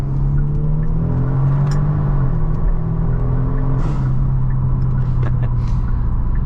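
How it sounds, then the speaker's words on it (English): Tuned 2023 Genesis G70 with aftermarket air intakes and ECU tune, about 450 hp, accelerating hard: a loud, steady engine drone with intake whoosh that climbs in pitch, drops at a gear change, then climbs again, heard from inside the cabin. "This was the sound of the air intake."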